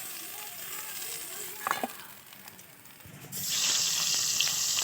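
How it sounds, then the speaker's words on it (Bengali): Chela fish frying in a pan with a broadband sizzle, a brief clink near the middle, and a louder, brighter hiss of oil in the final seconds. "এবারে বাকি মাছগুলো এইভাবেই ভেজে নেবো।"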